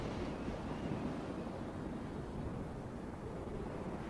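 Cold wind gusts steadily across open Arctic tundra, a dense, unbroken rushing roar with microphone buffeting, no other sounds.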